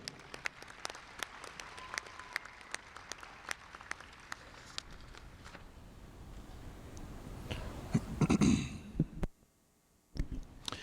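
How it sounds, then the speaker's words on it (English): Faint, scattered applause for the youth Queen's Court at a dairy show ring, sparse claps in an open space, rising into a louder close rustle near the end before a short silence. "Please give a warm round of applause to these 4 outstanding youth making up the Queen's Court."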